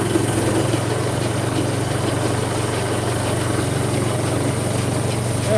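A golf cart's engine runs steadily after its loose drive chain has been tightened, a continuous, even drone with a low hum that holds at the same level throughout.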